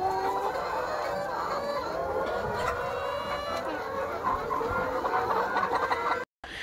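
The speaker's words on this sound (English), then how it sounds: "My layers over there are loud, like really, really loud." A flock of Kuroiler laying hens clucks loudly and continuously inside their housing, many overlapping calls forming a busy, close chorus that cuts off abruptly near the end.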